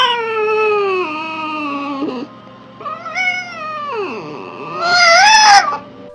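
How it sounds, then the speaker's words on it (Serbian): A European red fox gives several drawn-out, wavering wailing screams, close and loud, rising and falling in pitch with short pauses between calls. "Zvuk evropske crvene lisice"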